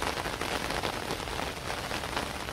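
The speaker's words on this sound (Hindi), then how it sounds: "आप देख पा रहे होंगे मूसलाधार बारिश हो रही है" Torrential rain pours down steadily, a dense, even hiss of drops striking surfaces that holds close and loud throughout, with no voices.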